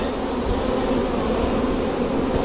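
Honeybees hum steadily at an open hive, a dense, continuous drone that holds close and even throughout with no pauses.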